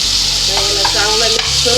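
Tomatoes tipped into a pan of sizzling roasted spices for a Maharashtrian drumstick and potato bhaji, giving a steady loud frying hiss with brief stirring scrapes and no talk.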